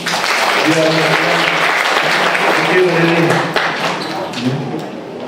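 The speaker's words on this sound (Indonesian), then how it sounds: "Tepuk tangan, tepuk tangan." Loud applause from a church congregation at an Abbalove service in Kelapa Gading, dense clapping with some voices mixed in, dipping briefly near the end before continuing.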